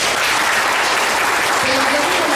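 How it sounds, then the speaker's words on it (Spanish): Audience at a conference applauding a speaker being introduced, loud dense clapping from many hands filling the room without a break, with a voice briefly audible underneath. "para el cual pido un fuerte aplauso"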